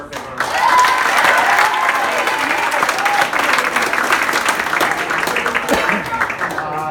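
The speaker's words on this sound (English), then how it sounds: "Let's give her a big round of applause" Sustained applause from a large crowd at a youth futsal closing ceremony in Argentina, dense steady clapping with scattered cheers and whoops filling the hall for several seconds.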